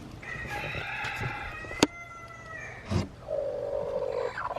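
Broody silkie chickens cluck and call close by, a rooster-like crow rising over a hen's drawn-out vocal notes, with a sharp knock midway and no speech.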